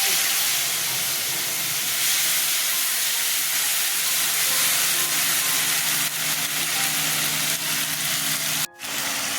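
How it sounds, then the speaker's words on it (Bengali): Ginger-chili paste hits hot oil in a pan during tempering for a vegetarian dish, giving a loud, close, continuous hissing sizzle that holds steady for several seconds before a brief break near the end. "ফোড়ন দিলাম আদা লঙ্কা পেস্ট ছেড়ে দিচ্ছি"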